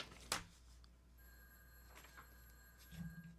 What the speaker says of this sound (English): now the phone's ringing as soon as I start the story.